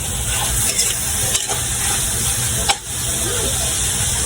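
Mung bean stew, ginisang monggo, is stirred in a pot over a loud, steady sizzle and hiss, with a few soft scrapes of the spoon, close up.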